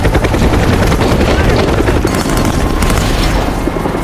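Heavy, dense din of helicopter rotor noise and rapid gunfire blending into a continuous loud roar, with booming impacts throughout.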